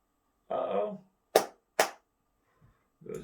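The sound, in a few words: hand claps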